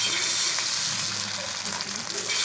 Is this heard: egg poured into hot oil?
yes